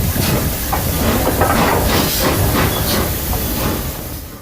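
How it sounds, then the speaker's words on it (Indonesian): The Flying Scotsman steam locomotive hisses loudly and continuously, a dense close roar of escaping steam with faint rhythmic pulses underneath, and no voices. "Inilah The Flying Scotsman"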